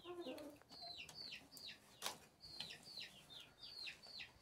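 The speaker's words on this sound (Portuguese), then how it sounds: "Galinha Brahma Dark aqui trocando de pena, tá meio feiona." A moulting Brahma Dark hen in a freshly cleaned coop with new bedding gives soft, faint clucks in a quick repeating series, with one brief flutter of wings midway.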